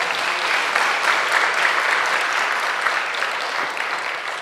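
Church audience applauding in a Korean Presbyterian sanctuary, a dense steady roar of many hands clapping throughout, close and loud with no talk.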